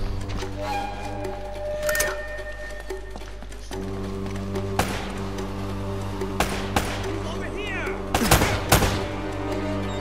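Gunfire in the video game Uncharted: Drake's Fortune, scattered sharp shots and short bursts over a steady hum of game music and ambience, moderately loud, with a voice talking now and then.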